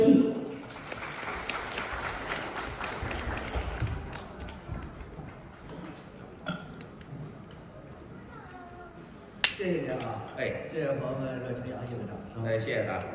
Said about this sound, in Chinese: 谢谢朋友们热情洋溢的掌声